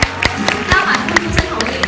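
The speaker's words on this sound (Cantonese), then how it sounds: "宋慧喬出場，掌聲唔該。" A press-conference audience in Hong Kong claps to welcome actress Song Hye Kyo, a short burst of scattered hand claps mixed with crowd noise and a voice over the top.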